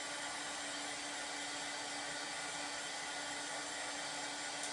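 A dryer blows over paste on a pillow transfer, giving a steady, loud, unbroken whir that holds at an even level from start to finish with no talking.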